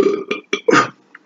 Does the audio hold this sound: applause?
no